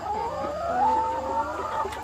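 Laying hens cluck and warble steadily, close by, a continuous murmur of calls with no one speaking, in the evening on a farm of about 300 egg-laying hens.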